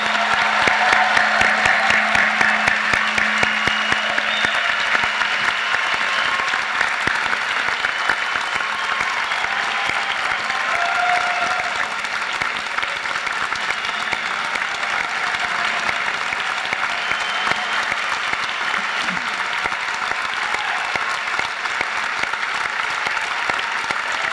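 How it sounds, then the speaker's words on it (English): At a 2016 Kentucky College of Osteopathic Medicine commencement, a large crowd of new graduates and guests breaks into loud, sustained applause with dense clapping that holds steady for over twenty seconds. "It's time to cheer."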